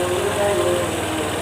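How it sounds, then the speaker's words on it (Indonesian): Yamaha Jupiter MX motorcycle engine running after a radiator flush, a steady close idle with a continuous low throbbing pulse throughout, alone without talk. "motor sudah bisa hidup ya"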